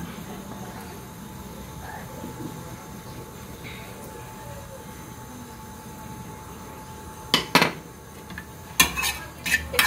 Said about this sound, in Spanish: Y hay que empezar a revolver.